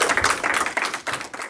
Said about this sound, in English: I think we need to give, again, a big applause to both teams.